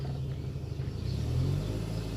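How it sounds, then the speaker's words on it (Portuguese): A car pulls off slowly as the clutch is released, its engine giving a steady low rumble that swells gently while accelerating, heard close from inside the vehicle with no talk. "Ele vai tirar no pé da embreagem, acelerando devagarzinho."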